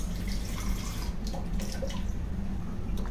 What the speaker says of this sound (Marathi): थोडं घट्ट आहे, अजून थोडं पाणी घालूया।